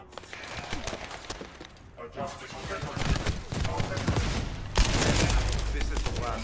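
Gunfire from a weapon in the video game The First Descendant, a steady stream of sharp shots and bursts that grows louder in the second half over a low background rumble.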